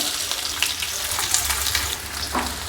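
Onion frying in a spoonful of oil with curry leaves for a flat beans palya gives a continuous close crackling sizzle, with light stirring scrapes through it and no voices.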